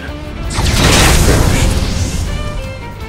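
A fire spell in Octopath Traveler II erupts in a loud, booming whoosh that swells within the first second and slowly fades over a few seconds.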